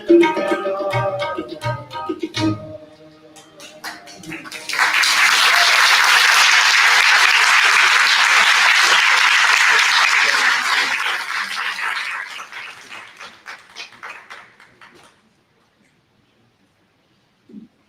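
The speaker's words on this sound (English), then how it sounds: "Give them another round of applause." Audience applause at a unity and prayer gathering in Livonia, swelling after a sung Punjabi hymn fades, holding strong for several seconds, then thinning to scattered claps and silence.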